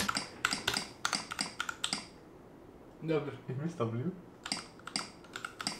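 Rapid typing on a lubed mechanical keyboard, bursts of key clicks near the mic that stop while someone talks briefly, then resume.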